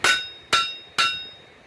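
Three loud, ringing hammer blows strike steel at an even half-second pace while the edges of a garden hoe forged from pipe are straightened, each strike decaying with a metallic ring.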